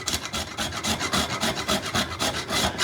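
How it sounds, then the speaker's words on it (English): Nutmeg being grated on a rasp-style zester, a dense run of short, steady scraping strokes in a quick, even rhythm, close and fairly loud with no talking. "see how easy or how difficult it is to use these rasp style graters to grate nutmeg up"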